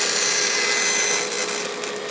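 A bandsaw cuts a slot into a wooden spatula blank, a continuous close, loud hissing rasp of blade through wood that eases slightly toward the end.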